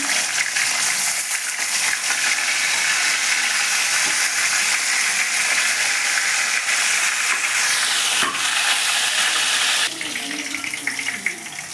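Fish frying a second time in mustard oil in a wok makes a loud, continuous close sizzle that thins slightly near the end, with a few utensil knocks.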